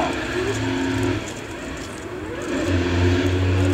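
Super Formula race cars from 2013 roll under the Dunlop bridge on the main straight at Sugo, engines humming at low revs as they pass at a moderate distance.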